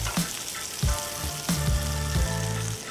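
Generous butter sizzling and frying in a pan over high heat while making a one-pan breakfast sandwich, with a steady close crackle broken by several knocks and scrapes of a utensil against the pan.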